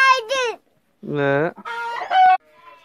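Rooster on a farm crowing loudly and close, a drawn-out harmonic call in several bursts, with clucking fowl and a voice mixed in between the calls.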